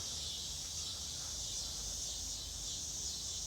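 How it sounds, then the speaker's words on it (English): Cicadas buzz in a summer garden, a steady high-pitched droning chorus that fills the whole stretch without pause over a low background rumble, with no talking. "those are the cicadas, the sound of my childhood when it comes to summer"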